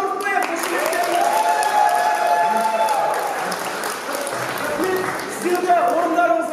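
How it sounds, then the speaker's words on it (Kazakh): Guests at a Kazakh wedding celebration break into steady, sustained applause that fills the room, with festive music and voices carrying underneath. "Тағы да бір шапалақ ұрып қояйық"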